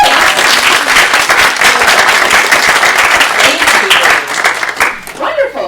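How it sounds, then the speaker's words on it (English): A conference audience at a water solutions summit applauds its organizers, steady dense clapping that fills the room for several seconds before tapering off near the end. "Can we get a round of applause for our organizers?"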